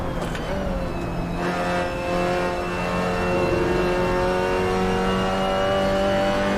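A race car engine in Assetto Corsa revs up under acceleration, a loud, steady mechanical tone that climbs in pitch and holds strong throughout, with no voices.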